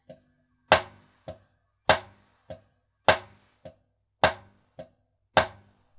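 Drumsticks strike a practice pad in a steady alternating pattern, loud hits paired with softer ones, crisp and close with quiet between strokes.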